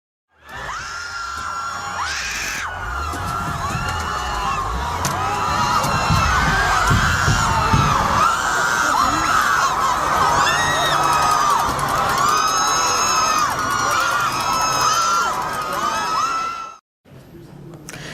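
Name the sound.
chaotic protest crowd as a U-Haul truck drives into it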